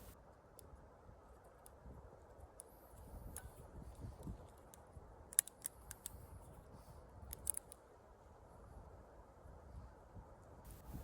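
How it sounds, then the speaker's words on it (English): A human toenail clipper trims the edges of a chicken's beak on a small chicken farm: a few sharp, isolated snips and clicks over a steady, low background hiss. "I'm just going to go back and clean it up a little bit around the edges with a human toenail clipper"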